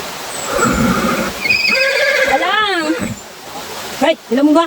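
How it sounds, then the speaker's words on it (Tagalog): A horse on a rural farm whinnies loudly and close by, a long wavering neigh with rising and falling pitch over steady outdoor background noise, followed by a shorter burst of snorting or a second whinny near the end. "Oh, may isa kasing kabayo guys."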